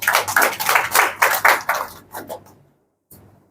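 A church congregation at a Sunday meeting claps in a steady, rhythmic beat for about two seconds, then the applause thins into a few scattered claps and falls silent.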